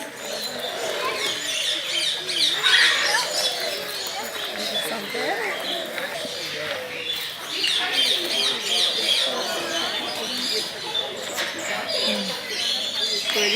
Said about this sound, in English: So we're in the aviary tour, which you can see all the birds.